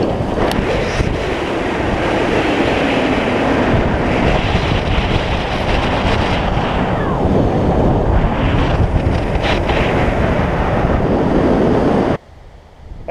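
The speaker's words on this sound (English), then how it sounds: "here I am on the shores of Lake Michigan on the Michigan side" Wind buffets the microphone over a steady roar of surf on the Lake Michigan shore, on the Michigan side, continuous and loud before cutting off abruptly near the end.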